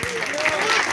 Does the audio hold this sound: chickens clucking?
no